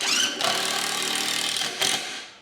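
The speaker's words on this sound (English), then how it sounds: "I'm gonna drive some 3-inch screws in, like directions show." Power drill driving 3-inch screws into wood while building a pig feeder box from an IBC tote, a loud, close whirring run of about two seconds bracketed by sharp bursts at start and end.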